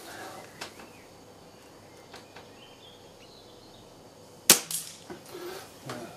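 A tuned Weihrauch HW 97 air rifle fires once in a garden, a sharp crack followed by a faint metallic ring as a spinner is struck, amid quiet outdoor ambience and distant birdsong.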